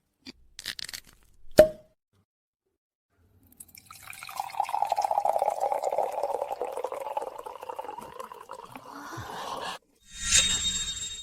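A drink is poured from a bottle into glasses: a sharp clink, then a steady splashing stream of liquid for several seconds, followed by another short clatter, with no talk.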